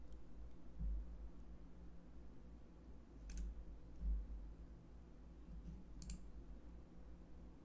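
A computer mouse gives a couple of sharp, isolated clicks spaced a few seconds apart over a faint, steady background hiss.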